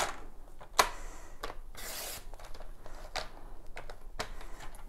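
Whisper White cardstock being cut to size with a paper trimmer, a soft rasping slide with a sharp click near the start and a few brief scraping strokes, close and quiet with no talk.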